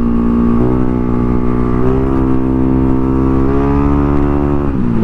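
A Mio i 125 scooter with a 4-valve 200cc engine and quick throttle revs loudly and close, its steady drone climbing in pitch in stepped throttle blips and dropping back near the end.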